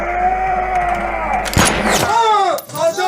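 A single loud gunshot cracks out in the video game Detroit: Become Human, a sharp blast with a short ringing tail. It cuts through a steady droning game soundtrack, and a voice is heard around it.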